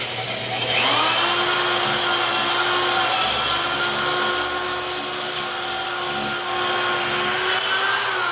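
A power drill bores holes in floor tile lubricated with cutting grease, a loud continuous whine holding a steady pitch over a deep motor hum for several seconds.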